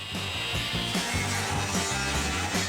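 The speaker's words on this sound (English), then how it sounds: "We'll start cutting along the pinch weld in the center of the wheel tub." Power tool cutting along the pinch weld at the center of a Chevy race truck's sheet-metal wheel tub: a loud, continuous, close grinding rasp with rhythmic pulsing strokes, no talk.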